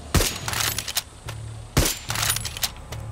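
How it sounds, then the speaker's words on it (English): Sniper rifle fire in the video game Far Cry 6: two sharp, loud shots about a second and a half apart, each followed by short echoing crackles of distant gunfire, with no talking. "Let's see if I can blow it up from here with my sniper."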